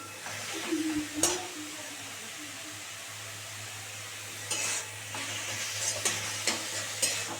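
Note shak greens fry in a pan with a soft steady sizzle and a hiss of steam, broken by a few sharp scrapes and clinks of a spoon stirring against the metal.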